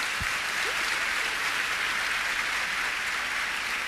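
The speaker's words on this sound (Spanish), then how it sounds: "ustedes aplauden" Steady applause from an audience at a church testimony talk, a dense, even wash of clapping that holds throughout with no voices over it.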